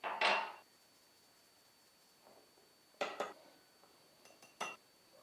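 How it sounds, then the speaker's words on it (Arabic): Semolina and flour sifted through a metal sieve for Algerian pastry dough: three short clattering, rattling bursts, quiet between and close by, with no talking. "في الاول راح نعاود نغربل السميد والفرينه"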